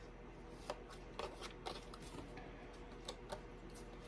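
Tarot cards being shuffled by hand near the microphone, a quiet, steady riffling with a handful of sharper snaps and taps at irregular moments, no talking.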